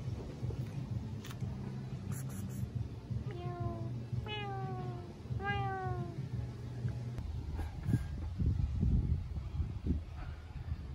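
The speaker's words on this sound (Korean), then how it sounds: "고양이야." A cat meows three times in a row, each call rising then falling, over a steady low hum of background noise.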